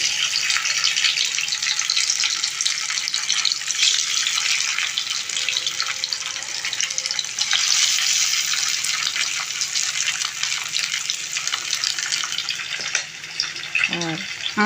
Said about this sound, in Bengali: এদিকে তেলটা গরম হয়েছে এরপর একে একে মশলা মাখানো মাছগুলো আমি দিয়ে দিচ্ছি